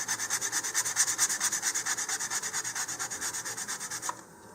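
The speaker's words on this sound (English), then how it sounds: "And just using it with my fingers, smooth out the balsa." Rhythmic hand rubbing across coarse-grained balsa wood on a model rocket part, about twenty quick even strokes in a steady back-and-forth pulse, close and dry, stopping abruptly near the end.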